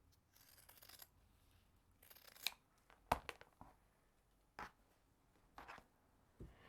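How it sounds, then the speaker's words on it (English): Scissors snip through quilt fabric pieces, trimming about a quarter inch from a sewn seam, in several quiet, separate cuts with short pauses between them. "So I'm just going to cut about 1/4 inch away from the edge where I've sewn."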